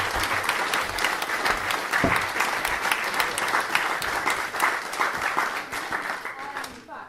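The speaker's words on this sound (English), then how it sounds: "so give them another round of applause." Audience applause at a school drama performance evening, dense continuous clapping from a sizeable crowd filling the room for several seconds before gradually tapering off at the end.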